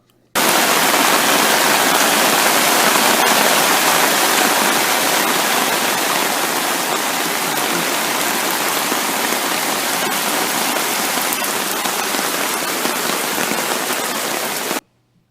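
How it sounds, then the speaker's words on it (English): Heavy rain floods a stormwater channel beside a home with a screened porch, a dense, steady roar of pouring rain and rushing runoff water that stays loud and unbroken throughout, with no voices. "This video shows what occurs with the channel pictured on the right when heavy rains occur."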